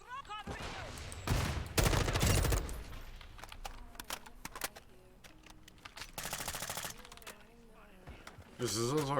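Bursts of M4 rifle fire in a first-person shooter game, several rapid automatic volleys of varying length with quieter gaps, a voice talking in between.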